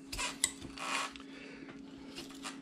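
A knife carves into a 2x2 inch wood block, giving short scraping rasps and a small click in close, quiet bursts over a steady low hum.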